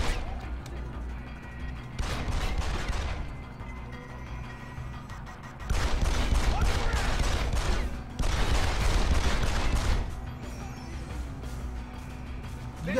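Video game gunfire in Deus Ex Human Revolution comes as three loud bursts of rapid shots, each lasting a couple of seconds, separated by quieter stretches of background game sound.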